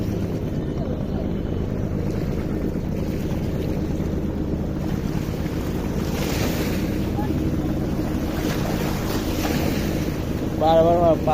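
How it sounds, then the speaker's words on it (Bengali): Waves from a passing Chandpur-bound launch roll onto the Buriganga riverbank, a loud, continuous wash mixed with heavy wind buffeting and no clear talk. "এই যে ঢেউ আসতেছে অলরেডি।"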